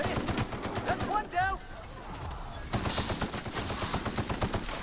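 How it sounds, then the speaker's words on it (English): Rapid automatic bursts from a machine gun in The Outer Worlds, loud and close, with a short pause before the rattling fire resumes in fast repeated volleys, while a voice talks over it. "God, this machine gun's great."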